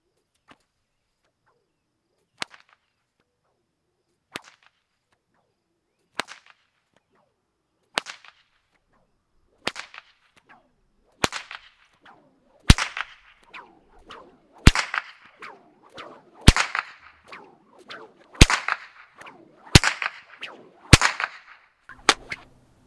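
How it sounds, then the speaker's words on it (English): A bullwhip cracks about a dozen times at a steady pace outdoors, starting as faint snaps and building to sharp, loud reports, with no talking. "I'm going to start by cracking this whip as softly as I can, and I'm going to slowly increase the power"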